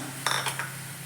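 A spoon clinks against a bowl as chopped carrot and corn salad is mixed, a few quick light taps in close succession over a faint steady hum.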